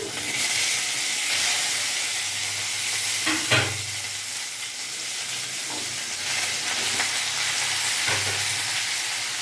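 Mixed vegetables for chhyanchra, added one by one to oil with panch phoron, sizzle steadily in a pan, making a constant close hiss with a few soft stirring scrapes and no speech.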